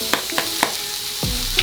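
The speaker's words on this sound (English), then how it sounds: "You're gonna hear some sizzling." A burger patty frying in a hot pan gives off a steady close sizzle, broken by several soft taps and scrapes and a low thud near the end.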